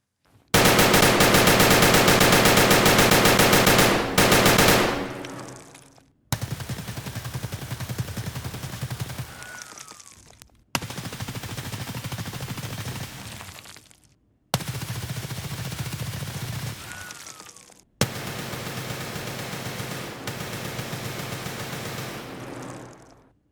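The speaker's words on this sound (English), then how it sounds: "Let's see how each gun stands up when comparing their fully automatic shot groupings at around 15 meters when aiming down sights, as well as point firing." Fully automatic 5.56 rifle fire in Escape from Tarkov comes in loud, close sustained bursts: one long burst, then four shorter ones, each ending abruptly with a short pause between.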